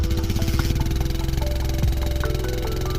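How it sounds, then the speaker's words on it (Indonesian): A Yamaha outboard boat motor drones steadily with a fast, even low throb, running close by without a break, with faint higher tones rising over it. "Ini suara mesin tempel Yamaha yang halus."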